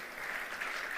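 Brief, steady applause from a congregation in church, a dense wash of clapping with no pauses.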